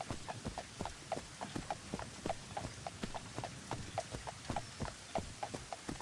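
Horse hooves clip-clop steadily in the role-playing game Daggerfall, a brisk, even rhythm of sharp knocks repeating for the whole stretch over a faint background hiss, with no talking.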